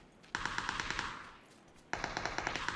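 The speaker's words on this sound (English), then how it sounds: "He's shooting me now." Enemy gunfire in PUBG: two rapid automatic bursts of sharp, evenly spaced shots, each lasting over a second with a short gap between, fairly faint, no talk.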